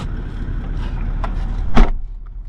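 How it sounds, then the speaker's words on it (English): Car engines idle and roll through a farm station stay gate in the Kimberley, a steady low vehicle rumble with a brief louder burst near the end, no talk. "first car is in the gate, second car followed behind, and we're on our way"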